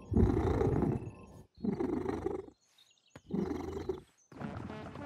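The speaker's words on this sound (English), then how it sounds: "and, of course, vocal cords for purring." A cartoon cat's deep, rumbling purr in four long bursts with short pauses between them, loud and close.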